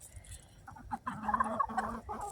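Young chickens in a dry coop, pullets and roosters together, giving soft clucks and a few short, louder calls from close by, with no talking.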